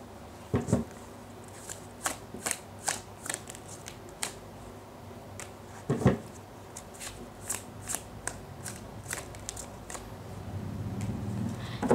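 Tarot cards being shuffled, a run of crisp riffling flicks and soft slaps repeating unevenly at close range, with no talk over them.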